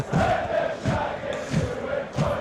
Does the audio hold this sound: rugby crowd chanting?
yes